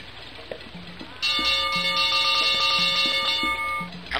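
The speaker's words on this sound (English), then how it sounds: "since they're shaped like bells, they make bell sounds." Bell-shaped objects ring out in the Putt Putt Saves the Zoo video game, a bright cluster of sustained chimes that starts suddenly and holds steady for a few seconds over quiet background game music.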